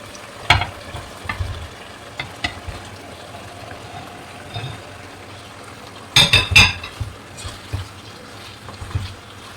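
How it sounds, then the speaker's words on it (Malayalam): A pot of beef curry with pidi rice dumplings simmers and bubbles on the stove. A spoon scrapes and clatters in a few sharp bursts while stirring, with a louder cluster of knocks midway. "ഇത് നല്ലോണം തിളച്ച് വരുമ്പോൾ നമ്മൾ വേവിച്ച് വെച്ചിട്ടുള്ള പിന്നെ എന്താ പറയുക പിടി ഇതിലേക്ക് ഇട്ട് കൊടുക്കുകയാണ്"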